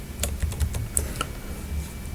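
Keys on a computer keyboard are tapped as a URL is typed into a request field, giving a short burst of quick, close, crisp clicks followed by a brief pause.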